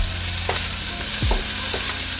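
Carrots sauté in a hot pan for brisket lo mein with a dense, close sizzle. Several short utensil scrapes and clinks sound as they are moved around, and nobody speaks.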